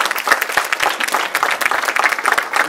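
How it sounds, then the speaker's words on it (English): A live audience claps and cheers for a row of panelists at a community panel event, dense steady applause holding at full volume without a break. "Let's give all of our panelists a round of applause."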